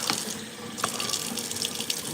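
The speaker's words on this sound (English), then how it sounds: "Cold water in the face." A tap runs steadily into a sink at close range as cold water is splashed onto a face, with a continuous hissing flow broken by a few small splashes and no voices.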